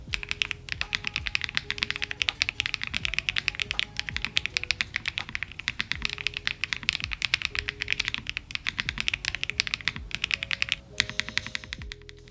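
Fast, continuous typing on a Nuphy Kick75 mechanical keyboard with HMX Cheese switches, rapid clacky keystrokes with occasional heavier thocks from larger keys, close and unaccompanied.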